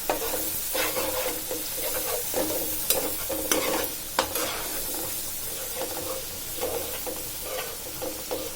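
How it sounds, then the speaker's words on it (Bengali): Onion and garlic frying in oil left from frying fish, a steady close sizzle with repeated stirring scrapes and occasional sharp clinks of a utensil against the pan. "মাছ ভাজার তেলে আমি পেঁয়াজ রসুন দিয়ে দিছি।"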